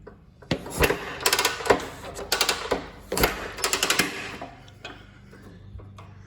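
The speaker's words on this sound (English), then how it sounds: "you can hear the compression." A 1928 Harley-Davidson Model B engine is turned over by hand with the clutch engaged, giving bursts of rhythmic mechanical chuffing and clatter from compression strokes in uneven groups, close and fairly loud, fading toward the end.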